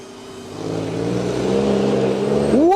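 A car on a reverse driving course pulls hard with a steadily rising engine note, then a quick gear shift and renewed acceleration, close and loud.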